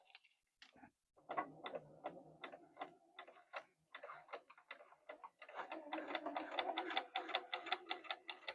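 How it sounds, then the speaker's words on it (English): A sewing machine stitches straight down through a plastic zipper pouch in short, rapid mechanical bursts that run into a steady, loud clatter near the end. "line that up with my sewing needle, pull my pin out, and I'm going to sew straight down"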